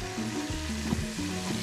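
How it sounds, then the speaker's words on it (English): Steady sizzling of guinea fowl frying in a pan, a constant crackling hiss with some low background hum and clatter, no talking. "we're just frying guinea fowl"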